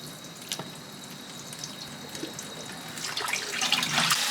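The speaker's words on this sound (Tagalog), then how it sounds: "Lalagyan na natin siya ng tubig." Water runs from a tap into a cooking pot holding beef shank with bone marrow for a Filipino bulalo soup, starting as scattered drips and splashes and swelling into a steady, louder pour near the end.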